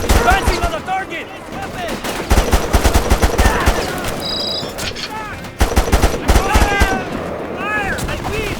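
Dense gunfire from Mercenaries 2: World in Flames, with rapid automatic bursts and heavy shots rattling close and loud, broken by brief lulls, while voices shout over the combat.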